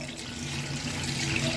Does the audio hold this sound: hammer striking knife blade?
no